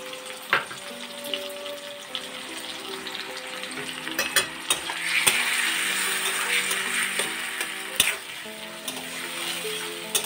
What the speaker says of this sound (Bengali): এখন আমি পেস্ট করা টমেটোটা এর মধ্যে দিয়ে দিলাম।